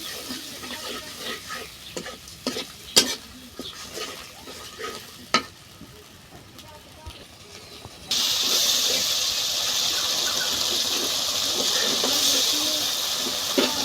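Spice paste with ground cumin, salt and a little water sautéing in a pan, first as quiet intermittent stirring clatter, then a loud steady hiss and sizzle for the last several seconds.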